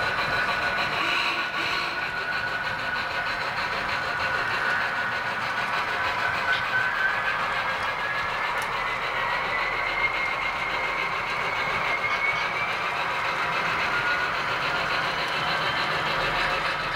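An HO scale model train runs along the San Leandro Historical Railway Society layout past its Cape Horn scenery, giving a steady, close mechanical whir and rolling rumble that holds even for the whole stretch, with no voices.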